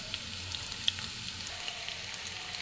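Onions sizzling in hot oil in a pan for vegetable noodles, with a soft, steady frying hiss and a few faint crackles throughout, no voices.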